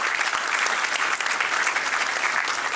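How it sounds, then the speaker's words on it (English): Audience applause during a speech by the managing director of Luminous Power Technologies, a brief steady burst of many hands clapping, close and even throughout. "So I think big round of applause for all those people who are with you."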